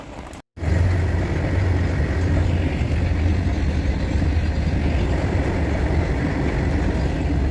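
After a brief drop to silence, a loud continuous rumble of a train passing a road level crossing sets in, a steady low roar and rattle that persists throughout.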